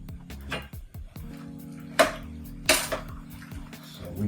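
Uncooked cheese tortellini drop into a pot of broth amid a series of light clinks and metallic knocks from a utensil against the pot, with two sharper clangs standing out.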